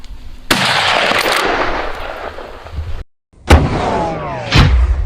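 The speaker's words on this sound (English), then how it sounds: "I pulled the trigger." A rifle shot fired at a wild boar during a hunt cracks out loud and close, its blast rolling away in a long echo, then a brief silence before a second sharp report and a further crack.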